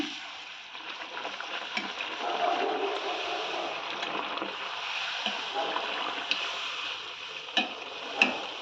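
Jowar flour puris frying in hot oil, a continuous soft bubbling sizzle with a few sharper splashes and clinks near the end, no voices.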